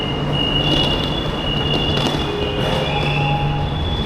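A line 2 metro train in China runs close by with a continuous rumble and thin, high squealing tones from the wheels, and no voices.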